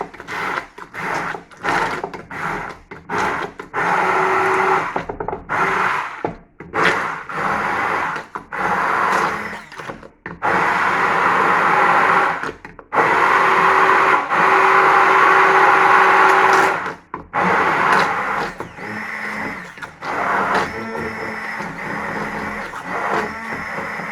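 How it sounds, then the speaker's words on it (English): A blender pureeing courgette and cheese, whirring in loud, close bursts that stop and start repeatedly, with a longer steady run near the middle. "So we need to puree this and see what happens. Turn the blender on."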